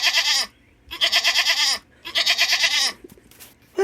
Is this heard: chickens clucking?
no